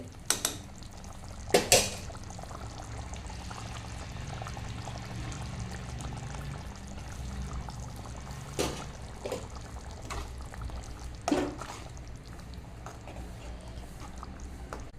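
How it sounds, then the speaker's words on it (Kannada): Thick masala gravy for egg curry simmering in a pot, a steady low bubbling bed with a few sharp utensil clinks scattered across it, close by and with no talk. "ಮಸಾಲೆ ಕೂಡ ಇವಾಗ ಚೆನ್ನಾಗಿ ಕುದಿದಿದೆ"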